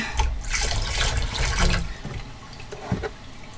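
Water gushes and gurgles as it drains from a motorhome waste water tank, a steady rushing flow that tapers off into softer trickling and a few splashes.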